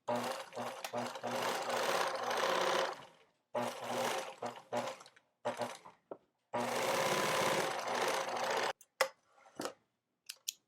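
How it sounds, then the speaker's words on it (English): A sewing machine stitches fabric pieces together freely in long, steady whirring runs broken by short stops, close and loud, with a few faint taps and handling noises in the gaps. "I'm just sewing together like freely"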